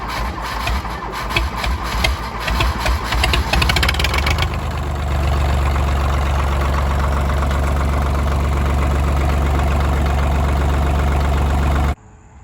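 An old tractor left in the woods cranks with a rapid chugging, catches after a few seconds and settles into a loud, steady idle until it cuts off abruptly at the end; no talk.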